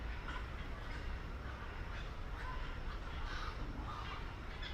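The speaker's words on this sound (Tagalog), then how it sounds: "ang dami ng ibon" Many birds calling together at Saigon Zoo, a dense, steady chorus of distant caws and chatter under constant background noise.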